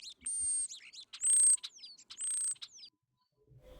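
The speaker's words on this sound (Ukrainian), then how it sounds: "Дивні посвісти шпаків" Three bursts of bright, whistling starling calls with sliding tones, clear and close, separated by short pauses; a faint rustle at the end.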